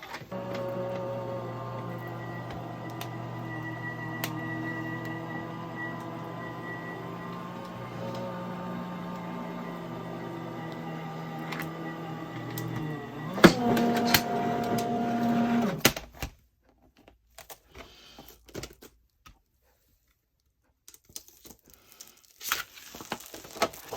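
A Crafters Companion Gemini Pro die-cutting machine hums and whirs steadily as it feeds an embossing folder sandwich through, ending in a few clicks and then near silence.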